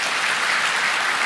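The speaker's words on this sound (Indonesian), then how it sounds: "Tepuk tangan dong." A church congregation claps in a dense, continuous round of applause at an even level throughout, with no voices rising above it.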